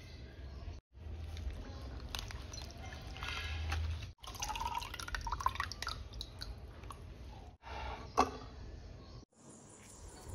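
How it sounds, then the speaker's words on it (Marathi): Hadga flowers are rinsed in clean water, giving irregular splashing, dripping and pouring sounds close by, broken by a few short silent gaps. "ही फुलं आता आपण स्वच्छ पाण्याने धुवून घेणार आहोत"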